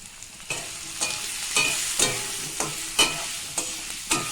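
Steady sizzling of potatoes frying in oil with salt and turmeric, punctuated by regular scraping stirs roughly every half second, close up with no talking.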